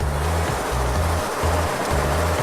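A flush valve on a particle counter pushes fluid through the system, a steady rushing hiss overlaid by a low pulsing hum that repeats in four regular bursts.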